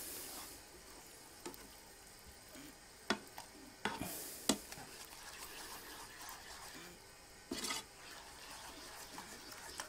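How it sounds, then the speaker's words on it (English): Pepper being stirred around a cooking pan for penne with chicken and mushrooms makes soft scraping and scattered utensil taps over a faint, quiet sizzle. "There's a lot of pepper, so I'm going to stir it around a lot"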